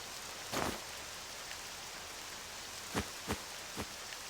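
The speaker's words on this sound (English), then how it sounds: "Everyone, your coats! Quickly! It's the rain!" Steady rain hiss falling in the video game Octopath Traveler II, a constant moderate wash with a few soft thumping sounds on top and no voices.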